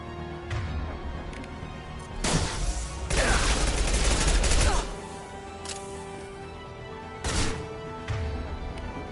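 Gunfire in the video game Mass Effect 2 comes as several loud bursts, a short volley followed by a longer sustained barrage and then a few shorter bursts, with voices between them.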